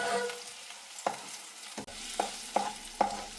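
Potato chunks and onions scraped and stirred in a hot pan, several distinct spoon strokes cutting through a steady low sizzle of frying, close and moderately loud with no talking.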